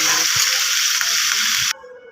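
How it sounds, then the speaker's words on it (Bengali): Ginger, garlic and green chillies frying in a wok give a loud, steady, bright sizzle that cuts off abruptly near the end, leaving a faint hiss. "এবার আমি আদা রসুনগুলো সব একসাথে দিয়ে আমি ভালো করে ভেজে নেব।"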